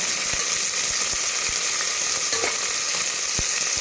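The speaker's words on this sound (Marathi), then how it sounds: "मोठे मोठे असे बारीक कट केले त्याला आपण छान तळून घेणार आहोत" Sliced onions sizzle and fry steadily in hot oil for chicken dum biryani, a continuous close crackling hiss with occasional soft stirring clicks and no talking.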